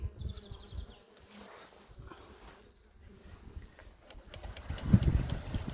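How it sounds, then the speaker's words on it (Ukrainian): Honeybees buzz steadily at an opened hive, a close, dense insect hum in the open air that swells louder toward the end, with faint handling noises in between. "Дивимося, бджолок достатньо."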